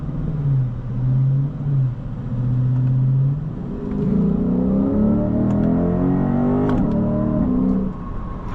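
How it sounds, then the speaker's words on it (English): A 2023 Lexus IS 500 F Sport Performance V8 idles with a steady low burble, then revs up with rising engine tones and holds a loud, strong pull, heard from inside the car. "God, that V8 sounds so good."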